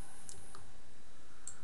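A computer mouse gives a few faint, sharp clicks, spaced apart, over a steady low hiss, with no voices.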